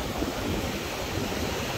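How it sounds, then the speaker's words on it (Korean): Strong southerly wind blows over the open sea, producing a continuous low rushing roar with choppy surf noise and microphone buffeting, steady and fairly loud throughout. "지금 남쪽에서 40 이상의 엄청난 바람이 불고 있어요."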